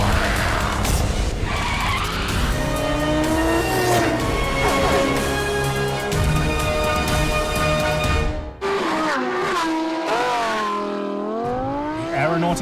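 Lamborghini Huracán accelerating hard, a loud high-revving engine climbing through gears with sharp shifts and tire squeal, close and continuous with a brief drop before the revs rise again.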